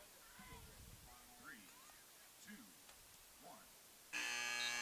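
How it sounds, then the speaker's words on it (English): Over a faint arena murmur and distant voices at the end of an NCAA women's soccer game, a loud, harsh game-ending buzzer suddenly blares and holds steady to the end. "And there's the buzzer"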